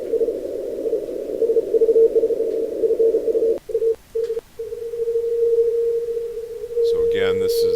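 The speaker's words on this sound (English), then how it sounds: "I'm going to go down on the bandwidth. This is a 70 hertz filter." Radio signal heard through a 70 Hz filter on a Flex 6000 series radio: a steady, narrow, pure tone that holds mostly continuous, briefly drops out and comes back a few times, then a voice begins at the end.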